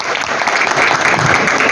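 Loud, steady applause from an audience at a corporate award ceremony, a dense wash of clapping hands that continues evenly throughout.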